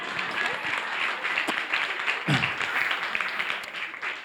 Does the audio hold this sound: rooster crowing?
no